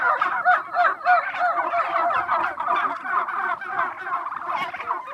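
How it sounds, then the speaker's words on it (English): Turkeys on a pasture farm gobble steadily in overlapping, rapid warbling calls, a dense flock nearby with no talk. "A turkey has 32 different kinds of vocal commands."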